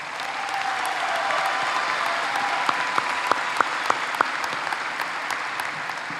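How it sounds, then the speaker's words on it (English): A commencement audience at Millsaps College claps for graduates, a dense, sustained roll of applause from a large crowd filling the hall, with a few louder individual claps standing out near the front. "Please give them all a round of applause."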